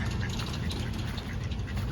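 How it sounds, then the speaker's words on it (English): Several ducks quack in quick, overlapping calls nearby, over a low rumbling outdoor background. "a bunch of ducks just chilling right off the path"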